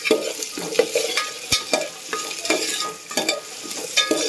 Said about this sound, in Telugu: ఇందులో ఆలు కలుపుకోవాలి.